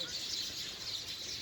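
A brief stretch of sparrows twittering steadily from a village tree, the chirping chorus fairly soft and continuous.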